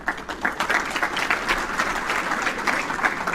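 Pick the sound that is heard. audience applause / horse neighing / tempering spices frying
audience applause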